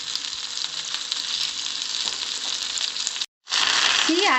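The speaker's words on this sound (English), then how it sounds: "See, I am frying in that oil only." Stuffed brinjal frying in a shallow layer of oil in a frying pan, a steady close sizzle and crackle that cuts out briefly and then returns louder.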